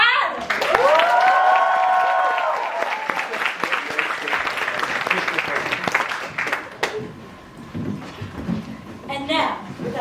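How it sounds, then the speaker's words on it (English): Theatre audience at a staged classics-play production applauds its contestants with loud, dense clapping from a sizeable crowd, first alongside a brief tonal sound effect, then fading into scattered claps and murmuring voices. "let's give one final round of applause to the contestants of Ithacan Idol"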